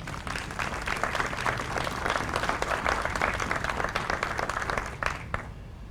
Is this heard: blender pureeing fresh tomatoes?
no